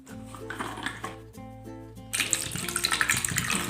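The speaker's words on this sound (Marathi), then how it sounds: "एक ग्लासभर पाणी टाकलं" A glass of water is poured into a small pot holding two raw mangoes, a close gurgling splash that starts unevenly and swells into a fuller, louder pour in the second half.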